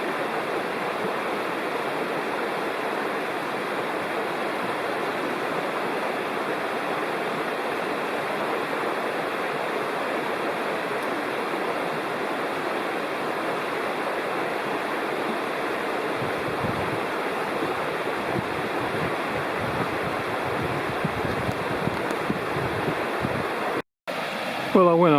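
Paint Creek in the Cherokee National Forest rushes beneath a sturdy footbridge, a steady broadband wash of moving water holding even for the whole stretch, with a few faint scuffs near the end.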